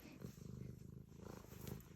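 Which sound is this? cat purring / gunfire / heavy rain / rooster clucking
cat purring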